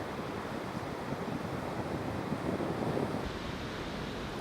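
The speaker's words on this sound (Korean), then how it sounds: "탁 트인 시원한 바다와 거침없는 파도 소리를 듣고 있자니 절로 명상이 되는 것 같습니다." Sea waves roll and break on a sandy shore at the land's-end coastal path, a steady, moderately faint wash of surf with a gentle swell near the middle, no voices.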